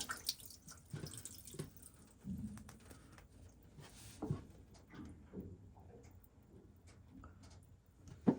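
Water drains from a boat's plumbing system while it is being winterized, a faint trickle with scattered drips and splashes, quiet and close by, with no voices.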